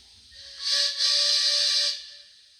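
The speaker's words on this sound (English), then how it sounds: "when you blow the whistle, they both sound at the same time, and it sounds a bit weird" Two Rapido Trains Bagnall model locomotives from the Port of Par pair sound their steam whistles together, a loud, hissy shrill tone lasting a bit over a second with a brief dip in the middle, standing alone without talk.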